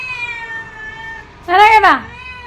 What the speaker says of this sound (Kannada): ಅಲ್ಲಿ ನಮ್ಮ ಕ್ಯಾಟ್ ಬಂತು ಫ್ರೆಂಡ್ಸ್ ಫುಲ್ಲು ಒಳ್ತಾ ಇದೆ